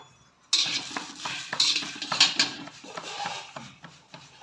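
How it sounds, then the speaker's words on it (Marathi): Pigeon pea beans and ten or twelve green chillies dry roasting in a pan, heard as close metallic scraping and rattling of a utensil against the pan, busy and fairly loud after a quiet opening, with no talk. "आता हे तुरीचे सोले भाजून घ्यायचे आणि या तुरीच्या सोल्यासोबतच या दहा बारा मिरच्या आहेत ना या पण टाकायच्या या पण भाजून घ्यायच्या"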